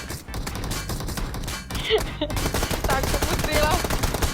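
Gunfire in the battle-royale game PUBG Mobile, a dense burst of rapid shots rattling through most of the clip, mixed with impacts and effects while players talk over it.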